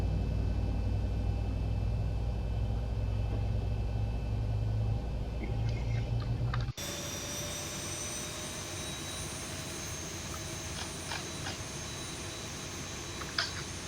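A Boeing 737-800's engine 2 spools up in X-Plane 11, a loud jet rumble and whine that cuts abruptly to a steadier, thinner idling tone with faint clicks, with no talking.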